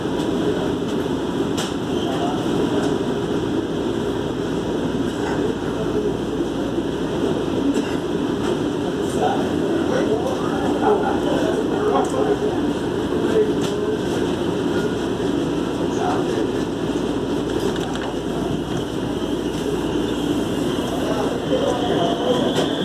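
A steady rumbling commuter train ride on Rio de Janeiro's SuperVia, with constant rail noise and hum, close and continuous, with faint clicks and a voice talking over it.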